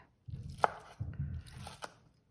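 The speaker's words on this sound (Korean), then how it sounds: "당면도 잘게 썰어 주세요." A knife chops soft cooked glass noodles on a cutting board for vegan dumpling filling, with a few close, soft thuds and squishy cuts spaced irregularly over quiet gaps.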